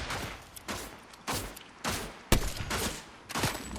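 Gunfire in Fortnite Zero Build, a series of about seven separate sharp shots spaced roughly half a second apart, each followed by a short decay, with no voice over them.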